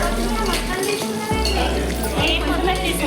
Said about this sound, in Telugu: మంచిగా అన్ని ఆనియన్స్ అన్నీ వేసుకొని మళ్ళీ కలుపుకోవాలి.